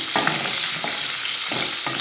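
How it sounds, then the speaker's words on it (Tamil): Sliced eggplant and other curry ingredients sizzle steadily in a hot pan, with several short scraping bursts as a spoon stirs them, close and without any talk. "இது நல்லா வதங்கிட்டுருக்கோம்."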